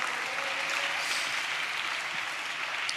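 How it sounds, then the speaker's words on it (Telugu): A church congregation claps hands loudly and steadily together in a dense, continuous wash of applause, with no talk over it. "చప్పట్లు కొడుతూ, గట్టిగా చప్పట్లు కొడుతూ స్తోత్రాలు చెప్దాం."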